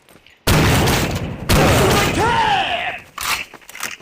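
Two heavy blasts from an M1887 lever-action shotgun in the video game Counter Strike, each a loud close boom followed by a ringing metallic tail and mechanical cycling clatter, with a further softer burst of action noise at the end.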